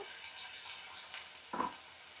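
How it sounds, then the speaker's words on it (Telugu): Broad beans curry frying in a pan, a soft, faint sizzle with a few brief stirring scrapes and one sharper clatter near the end. "ఇది ఇలా ఫ్రై అవుతూ ఉంటుంది"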